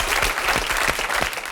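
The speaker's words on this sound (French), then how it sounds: "Bien, on vous applaudit" Studio audience at a French television talk show bursts into dense, steady applause, many hands clapping together at full volume for the whole short stretch.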